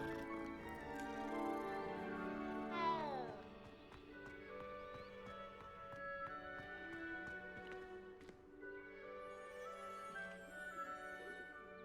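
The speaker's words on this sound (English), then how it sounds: "It's a cat!" A cat meows in a Harry Potter video game: a bright, falling mew rises above busy game sounds and music, with a person talking.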